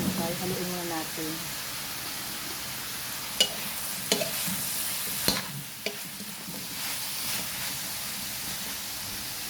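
Vegetables for pakbet being stirred in a pan, with a steady sizzle under a few sharp clinks of a utensil against metal; a voice is heard briefly at the start.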